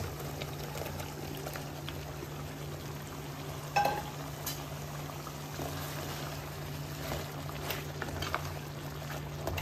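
Fried chicken simmering in butter chicken masala in a pan on medium flame, a steady low bubbling hiss with a soft clatter partway through, close by and without talk.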